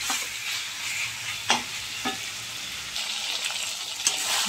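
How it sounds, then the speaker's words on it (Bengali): Mutton curry being sautéed in a pan with black pepper and turmeric, a moderate steady sizzle broken by a few sharp stirring scrapes, no talking. "এবারে এটাকে ভালো করে কষাবো"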